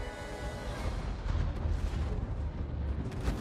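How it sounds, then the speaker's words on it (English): Blaster fire and explosions in the Star Wars Battlefront video game, a dense, loud, continuous barrage of booming shots with deep rumble throughout. "Why is he just shooting at Lord Vader?"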